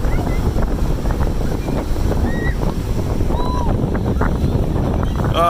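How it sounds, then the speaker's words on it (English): Strong, ferocious wind roars steadily past the microphone beside cold water on a February day in Texas, a loud, unbroken buffeting rush with faint bird chirps flickering through. "The wind is ferocious."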